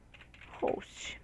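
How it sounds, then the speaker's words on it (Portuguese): Someone types a short word on a computer keyboard in a quick burst of soft key clicks, close and quiet, with faint background noise. "nós vamos vir aqui, ó, digitar localhost"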